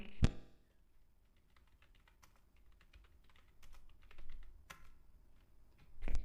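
Computer keyboard keys pressed while working in Microsoft Office 2007, with sharp isolated clicks, a louder key strike at the start and end, and scattered lighter taps in a quiet room.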